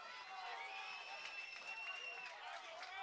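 Football fans in the stands at a college game between Golden West and Bakersfield College keep up a steady, distant roar of cheering and clapping that never lets up.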